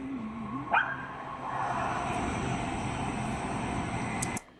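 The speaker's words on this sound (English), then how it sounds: "What you barking at, bud?" A single dog bark rings out sharply, then a steady low hiss of background noise continues until an abrupt cutoff.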